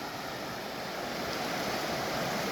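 The Stillwater River at the Stillwater Prairie Reserve flows in a steady, unbroken broadband rush, close and fairly loud, with no voices.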